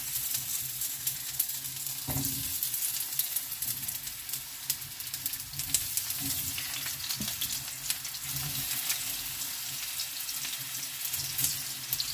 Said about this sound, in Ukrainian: нам потрібно, щоб картопля і грибочки обсмажувалися